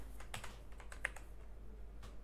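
Quick light keystrokes tap on a computer keyboard as a project name is entered, a soft irregular clatter over a low steady hum.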